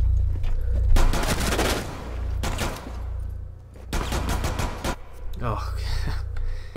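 Bursts of automatic gunfire in the video game Rainbow Six Siege on PC come in several loud clustered volleys separated by brief gaps, with players talking in between.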